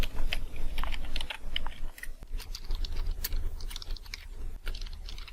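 Rapid, irregular clicking of computer keys as an email address is typed into a resume document, steady and fairly close with no talk.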